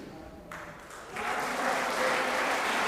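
A crowd at a squash match bursts into applause, the clapping swelling from a quieter start into a sustained, dense roar that holds steady to the end.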